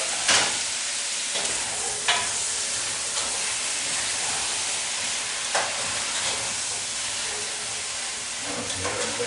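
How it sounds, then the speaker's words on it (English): Vegetables for asparagus soup sautéing in butter and oil, a steady hissing sizzle with occasional scraping stirs and utensil taps against the pot. "Saute a bit. Get the flavor of the butter and the oil mixed with your veggies"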